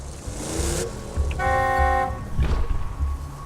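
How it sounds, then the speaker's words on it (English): A car horn honks once in Borderlands 2, a steady blast of about a second heard close over a low rumbling vehicle engine, followed by clanking and thuds. "Just drive up and honk your horn."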